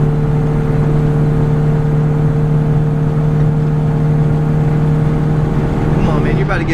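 A 1989 Rover Mini 30th Anniversary Edition engine drones loud and steady from inside the car, a constant harsh hum with strong low tones throughout.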